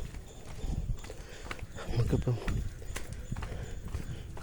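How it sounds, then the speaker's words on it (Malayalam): Footsteps tap along a newly concreted village road in an even, close rhythm while people talk over them. "ഇപ്പം ചെളി ചവിട്ടാതെ നടക്കാം."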